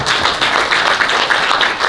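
Dense, continuous applause from a crowd at an awards gala dinner, loud and close, sustained evenly without a break for the whole short stretch.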